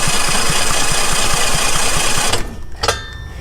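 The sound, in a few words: small engine being cranked over to test for spark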